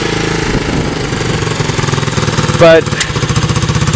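A Yamaha DX225 ATC engine running out of fuel chugs with a rough, uneven putter close by, sputtering as it dies, with a brief word spoken over it.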